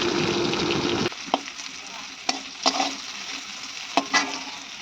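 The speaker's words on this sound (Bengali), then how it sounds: "আমিও করলাটা সঙ্গে সঙ্গে কেটে দেখতে পাচ্ছেন ভাজা করে ফেলছি" Bitter gourd slices sizzling as they fry in a pan, a steady hiss of oil with a few sharp clinks of a utensil stirring, close and alone without talk.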